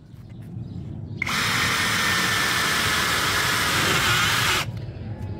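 A Doliz BD636 cordless brushless drill driver drives a self-drilling screw into a steel angle about 3.5 mm thick. A loud, steady, high-pitched whir runs for about three seconds, then cuts off sharply, with no talking.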